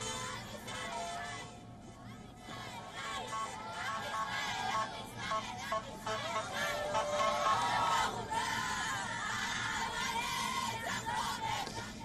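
A large crowd cheers, yells and chants continuously as vehicles carrying released hostages arrive, a dense, roaring mass of voices with rising surges throughout, some calls standing out above the din.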